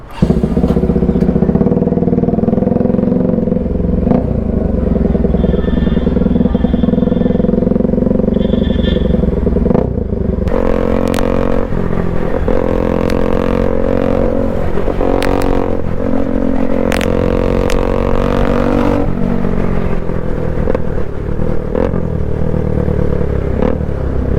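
A Bajaj Pulsar NS 200 motorcycle with a full system exhaust runs loud and close, giving a sustained throaty rumble. Repeated sharp throttle blips and revs start about halfway through and continue for the rest of the clip.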